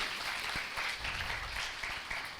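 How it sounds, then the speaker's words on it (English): Audience at an Indian digital-technology and youth event breaks into steady, sustained applause, heard from some distance and fairly soft, with a dense, even patter throughout. "Can we all extend a huge round of applause for her, everyone?"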